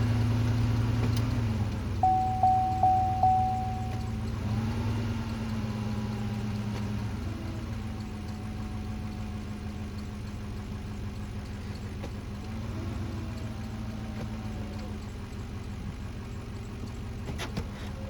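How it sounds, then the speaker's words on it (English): A 2007 Cadillac DTS idles steadily with a low, even engine drone while it is run through the gears, with a few faint clicks early on and no voices. "We'll run it through the gears again."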